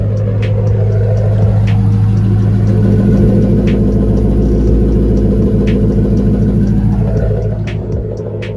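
A 2015 Ford Mustang with the 5.0 V8 idles steadily just after start-up, a loud, even low rumble that carries on alone and eases off slightly near the end.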